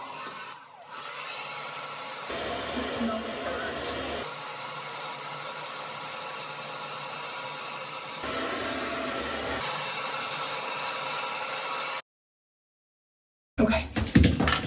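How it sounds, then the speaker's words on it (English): A hair dryer whirs loudly and steadily, shifting pitch as its setting changes, then cuts off into silence before a brief burst of noise. "I had to unplug my light so I can plug in my blow dryer."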